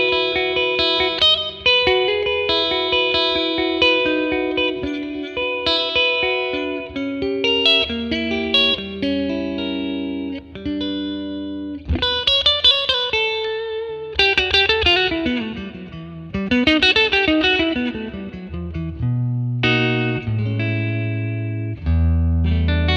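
Electric guitar played through a ToneX model of a Fender 1957 Tweed Bassman amp with reverb added, a run of sustained chords and single-note lines that bloom into an ambient tail, with some bends, alone and fairly loud.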